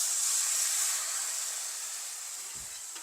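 Tamarind water poured into a hot pan of Sri Lankan wedding-style chickpea and eggplant curry gives a steady, fairly loud steaming hiss that slowly eases off over a few seconds, with no talking.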